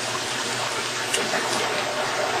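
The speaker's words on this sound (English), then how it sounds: "I apologize for the noise. I'm doing laundry." A washing machine doing laundry makes a continuous rushing water noise, steady and close as it fills or churns, with no pauses.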